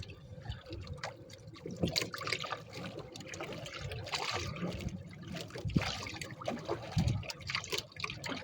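A small fishing boat paddled at sea, with uneven splashes and trickles of water against the hull repeating at close range over a low background.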